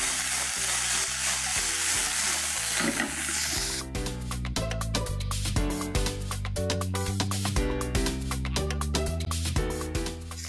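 Ginger garlic paste fries with curry leaves in a pan, giving a loud, close sizzle that is clear at first and then sits under rhythmic background music.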